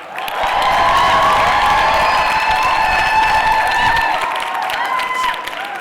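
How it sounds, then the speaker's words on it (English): An audience at a youth expo applauds, dense clapping that swells quickly and holds steady for several seconds before tapering slightly, loud and close with some cheering mixed in. "Please give a warm round of applause to Ms."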